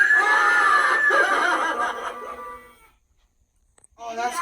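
A tug-of-war clown toy lets out a high, wavering electronic scream that fades after about two seconds, followed by near silence before another burst of toy noise near the end.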